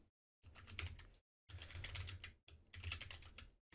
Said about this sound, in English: I'll just type it first.